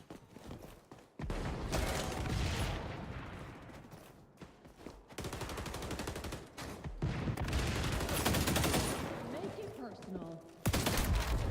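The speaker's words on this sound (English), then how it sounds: "Everybody's using shotguns" Gunfire in a close-quarters XDefiant match, with shotguns in use: loud, dense bursts of shots come in clusters, separated by brief gaps and a few quieter moments, with mechanical clatter between them.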